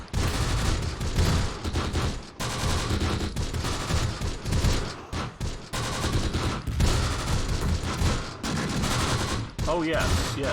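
Machine guns and other small arms fire in dense, continuous bursts with brief pauses in Close Combat: The Bloody First, a battlefield combat game, loud and close, with someone briefly speaking over the gunfire.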